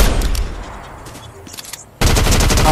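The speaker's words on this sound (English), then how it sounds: "I hear shooting" Gunfire in Fortnite bursts in abruptly after a quieter stretch of distant game ambience, a loud, dense stream of rapid shots filling the final second or so.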